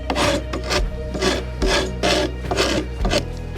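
A rasp shapes the handle of a red oak bow in a hardware-store build, rough rhythmic rasping strokes repeating about six times in close succession, loud and near with short gaps between.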